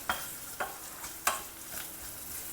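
Chopped onions frying in a pan with a pinch of salt, low and quiet, with a few soft spatula strokes scraping through them at irregular intervals over a faint steady sizzle.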